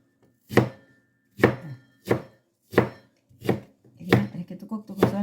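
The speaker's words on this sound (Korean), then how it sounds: "이렇게 뚜껑뚜껑 썰어서 넣으면 됩니다." An apple or pear is chopped on a board for salad, with seven separate knife strikes, evenly spaced at first and then coming quicker, each a crisp, close thud.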